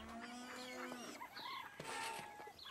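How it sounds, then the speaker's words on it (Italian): Hungry hens cluck and squawk in a cartoon farmyard as they chase a small boy, with a flurry of busy, overlapping bird calls up close and no talk. "Caillou non è affatto entusiasta di tutte quelle galline che lo inseguono."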